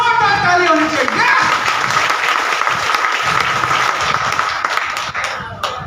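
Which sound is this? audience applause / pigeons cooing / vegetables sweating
audience applause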